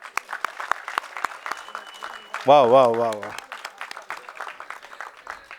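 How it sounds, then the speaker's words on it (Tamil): Loud audience applause at a Tamil film audio and trailer launch event, a dense patter of clapping under a speaker's voice, briefly covered by a held sung or shouted tone before the clapping carries on. "நல்ல பலத்த கரகோஷம்."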